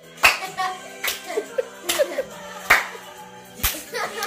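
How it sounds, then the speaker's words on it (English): A few people break into rhythmic hand clapping in a home, sharp claps landing about once a second, close and loud, with a little chatter mixed in between the claps. "we just randomly started clapping out of nowhere like we was in church"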